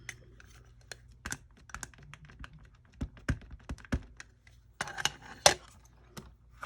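A rubber stamp is pressed onto cardstock, then the cardstock is flipped and stamped again, making a string of soft taps, thunks and light clicks at an irregular pace, close and quiet, with no one talking.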